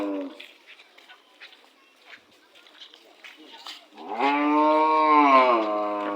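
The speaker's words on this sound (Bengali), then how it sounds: "বাছুর আছে এটা" A calf lets out one long, loud, drawn-out moo close by, following several seconds of faint background murmuring and low voices.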